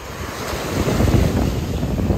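Waves wash onto the beach at Tuy Hoa, Vietnam, around sunset, in a loud steady surf roar that swells in the middle, with heavy wind rumble on the microphone and no talk.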